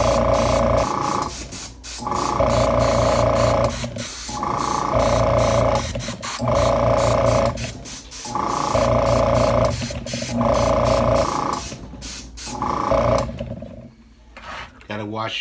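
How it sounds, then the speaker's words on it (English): An airbrush sprays paint onto a Dracula model in repeated hissing bursts of roughly a second or two each, separated by short pauses, with a steady compressor drone running beneath and the rhythm holding until near the end. "Gotta watch when you move the airbrush."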